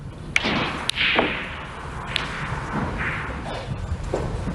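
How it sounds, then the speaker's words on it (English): At a snooker table in a professional tournament match, a few sharp thuds and clacks as the cue ball strikes and drops into a pocket, close and crisp against a quiet arena hush. "Possibly better that cue ball found the pocket there."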